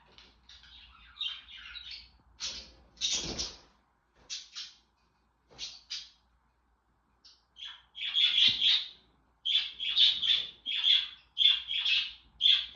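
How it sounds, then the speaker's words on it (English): Baby birds being hand fed chirp and squawk in rapid, high-pitched bursts, scattered at first and then growing into a steady run of loud, close begging calls. "Little baby birds are like, what about me? I want to be fed too."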